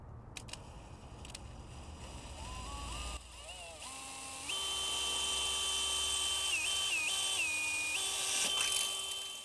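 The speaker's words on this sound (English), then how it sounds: "drill a hole right where that mark is and right where this mark is" An electric drill bores holes into a Festool fence with a milled T-track, its motor whining up in pitch and holding a steady high tone with brief stops, fairly quiet and close.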